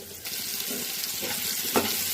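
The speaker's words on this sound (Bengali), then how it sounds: "টুকরো করে রাখা আলুগুলো দিয়ে একটু ভেজে নেব।" Potato pieces frying in mustard oil with chopped onion and green chilli, a loud, even sizzle that swells as they hit the pan, with a utensil knock near the end.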